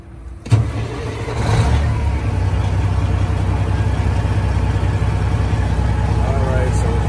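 A Freightliner Classic truck engine cranks over and fires, then settles into a steady, loud diesel idle with a constant low drone and an even, buzzy rumble, close by.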